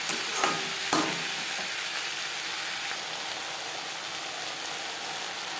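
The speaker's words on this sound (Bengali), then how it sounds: "পেঁয়াজ টমেটোর সাথে আদা ও কাঁচা লঙ্কা বাটা বেশ ভালো করে মিক্স করে দেবো।" Onion, tomato, ginger paste and green chili paste stir-fry in a pan, a dense continuous sizzle with a couple of sharp spatula scrapes near the start.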